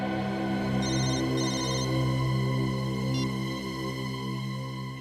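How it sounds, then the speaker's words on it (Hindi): A phone ringtone plays continuously and loudly, a dense electronic tune with short bright beeping bursts repeating over a sustained tonal bed, with no voices. "फोन उठाओ।"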